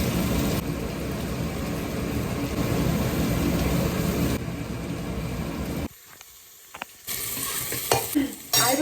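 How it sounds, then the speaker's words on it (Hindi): Cumin seeds temper in hot oil in a home kitchen, giving a steady loud crackling sizzle that drops off briefly before resuming with some clatter, with no talking. "मेरे को तड़के की आवाज़ बहुत अच्छी लगती है"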